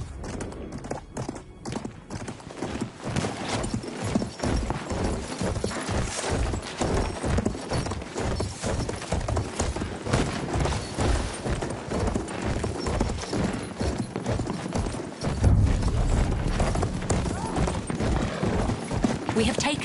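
A horse gallops in a video game, rapid rhythmic clip-clop hoofbeats running loud and continuous, with a voice talking over parts of it, distant gunfire in the background and a brief whinny.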